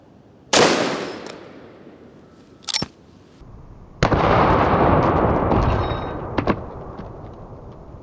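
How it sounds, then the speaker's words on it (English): A .44 Magnum mare's leg rifle fires at a small body armor plate: a single loud, sharp report, a brief clank, then a second blast with a long rumbling tail and a short metallic tick near the end. "the gun we're using for this one is the mare's leg"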